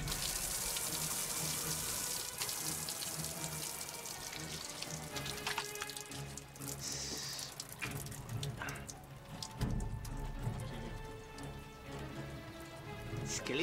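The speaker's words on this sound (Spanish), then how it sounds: "Vamos a ver si funciona esta otra ducha." Water sprays and splashes from a shower being tested, a steady, fairly quiet hiss of running water with drips and clatter, while people talk in the background.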